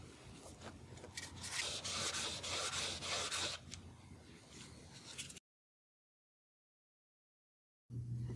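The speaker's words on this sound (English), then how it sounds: "My next step will be to sand on one side, sand on the other side." A broken edge is sanded by hand, making steady rasping, rubbing strokes that are close and moderately loud for about five seconds. The sound then cuts to silence and returns briefly at the end.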